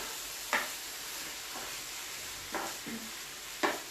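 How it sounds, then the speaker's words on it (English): Keto chicken with broccoli and spinach is stirred in a pan over a soft, steady sizzle, with a handful of quick scraping strokes of the utensil standing out now and then, fairly quiet and close. "You give it a good stir."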